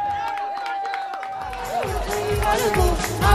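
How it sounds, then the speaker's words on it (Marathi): A crowd at a cricket tournament prize distribution claps and cheers, the applause swelling to a loud sustained roar in the second half after a steady tone, with voices mixed in. "टाळ्या होत्या."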